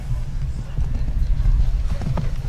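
A horse's hooves clip-clop steadily and close by in a show jumping arena at a 1.45 m grand prix, with low rumbling arena noise and a commentator talking over the hoofbeats.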